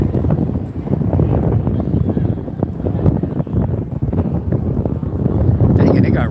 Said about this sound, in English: Dang it, it got really windy, man. It's like super windy for some reason.